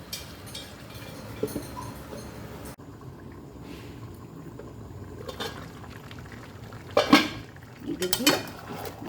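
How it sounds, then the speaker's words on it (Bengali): Mutton for methi mutton being pressed and stirred in a pot over bubbling juices, with close clinks and scrapes of a metal spoon on the pan and a soft simmering wash underneath. A couple of louder clattering bursts come near the end. "এবার এটাকে চাপা দিয়ে দিয়ে খুব ভালো করে কষিয়ে নিতে হবে।"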